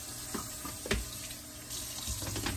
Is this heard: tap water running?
yes